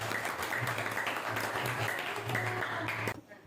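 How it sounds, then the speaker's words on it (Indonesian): A classroom of students applauds in steady, dense clapping that fills the room for about three seconds before cutting off abruptly. "Beri aplaus."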